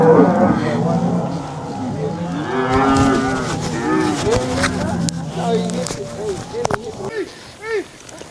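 Cattle moo repeatedly at a livestock auction, several drawn-out calls overlapping and rising and falling, close and loud amid a busy background of voices and ranch activity.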